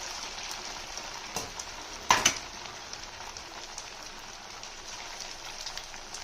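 Poha ambode fritters deep-frying in hot oil, a soft, steady crackling sizzle with a brief louder burst of spattering partway through, close and continuous without talk.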